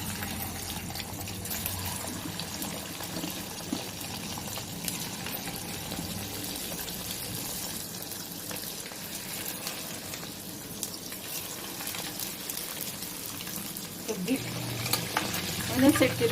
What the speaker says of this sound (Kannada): ಎಣ್ಣೆಲೇ ಫ್ರೈ ಮಾಡಬೇಕು